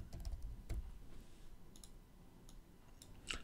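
Computer keyboard typing while working in Rhino and Grasshopper software: faint, scattered clicks and keystrokes with uneven spacing, a few sharper taps standing out against quiet room noise.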